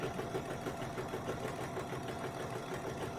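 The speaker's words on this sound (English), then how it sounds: "I'm going to pick up and sew where I want to start sewing" A BERNINA sewing machine stitches steadily at close range, giving a continuous mechanical whir threaded with rapid, even needle pulses and no voices.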